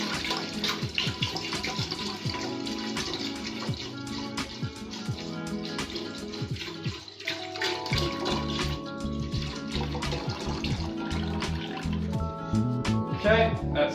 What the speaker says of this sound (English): So we're going to put our liter of soy milk into the saucepan.